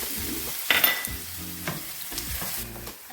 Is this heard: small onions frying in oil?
yes